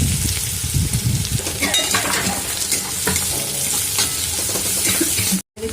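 Green chillies frying in a pan for kande pohe, a loud continuous sizzle with clinks and scrapes of a spoon against the pan, close up, with a brief cut near the end.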